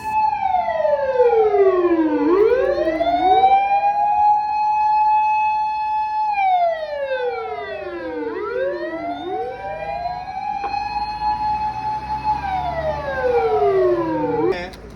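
A loud wailing siren sweeps up and down repeatedly in long cycles, close and continuous, with an emergency vehicle's layered tones overlapping.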